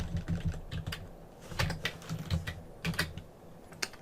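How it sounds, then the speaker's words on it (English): Rapid typing on a computer keyboard, with irregular bursts of sharp, close key clicks and a few louder keystrokes, alone with no talk. "If I can type it."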